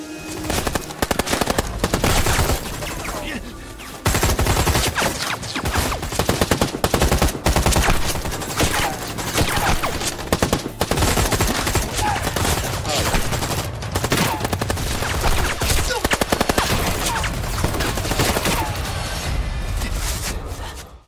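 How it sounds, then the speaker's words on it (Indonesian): A film gunfight erupts in heavy, continuous bursts of automatic and rapid gunfire, loud and close, with shots cracking nearly nonstop across the whole scene and no talk over it. "Dan setelah itu, baku tembak pun terjadi lagi."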